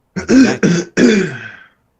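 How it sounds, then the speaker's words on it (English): A person clears their throat into a microphone at a parole board hearing in three quick, rough bursts, very close and loud, then it goes quiet. "Clearing your throat on the mic here."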